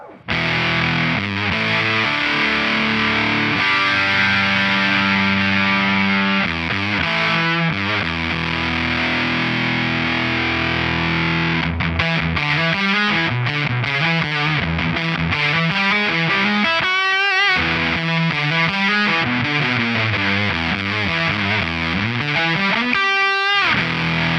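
An electric guitar played through a Crazy Tube Circuits Constellation germanium fuzz and booster pedal, loud thick distorted chords giving way to fuzzy single-note lines and bends, close and alone with no voices.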